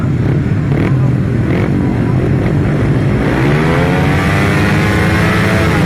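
500cc solo grasstrack racing motorcycles revving together on the start line for a race restart, a loud sustained snarl of engines rising in pitch as throttles are blipped.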